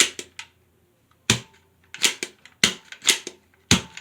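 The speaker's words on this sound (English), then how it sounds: "It's a Nerf gun." A toy Nerf gun fired repeatedly, giving sharp, dry snapping pops in an irregular burst of about ten shots, close by with quiet gaps between them.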